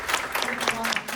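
An audience applauds steadily at an evening corporate meeting, a dense wash of clapping from many hands that keeps going at moderate loudness for about a second, with no voices over it.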